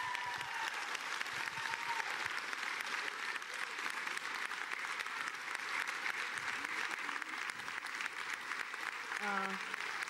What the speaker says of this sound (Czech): Takže obrovský potlesk.